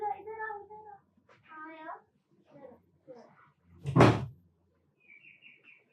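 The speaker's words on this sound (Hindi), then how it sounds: "पूरा दरवाजा बंद करके जाना" A door swings shut with a single solid thud between stretches of a teacher's speech and quieter background voices.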